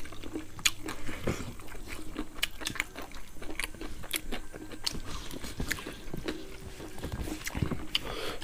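Crunchy bites and chewing on roasted pig head eaten with fermented mustard leaf paste, close and quiet, with a steady series of crisp crackles and snaps over soft mouth sounds.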